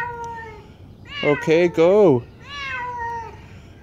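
A frightened cat trapped in a drained swimming pool gives several loud, wavering meows in quick succession, close and echoing, while a person talks over and around the calls.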